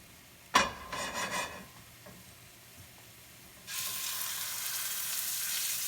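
Beef sears in a very hot pan: a sharp clank and some brief rattling come first, then after a quiet gap a loud, steady sizzle bursts in and holds to the end.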